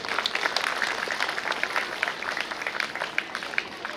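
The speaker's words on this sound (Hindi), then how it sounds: "सभी लोगों से तालियां बजवा के स्वागत करवाना चाहूँगा" A crowd applauding, a dense, even patter of many hands clapping that keeps going throughout.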